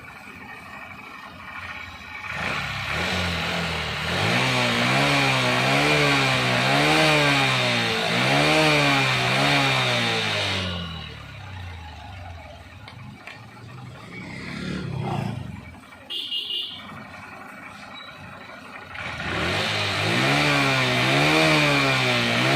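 A Honda Livo motorcycle with a digital meter that cuts out is revved repeatedly, its engine rising and falling in loud, close, wavering surges. After a quieter lull with a few clunks, it roars up again.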